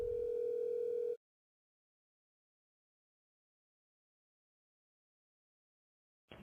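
An incoming prepaid call from an inmate at the Cobb County Adult Detention Facility opens with a loud, steady telephone tone lasting about a second, then silence before a faint automated voice starts at the end.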